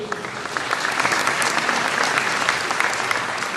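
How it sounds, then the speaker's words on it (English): Guests at a childcare providers' gala dinner applaud a sponsor, a full, loud round of clapping with sharp individual claps standing out, sustained without talk. "Can we get a big round of applause for Provincial?"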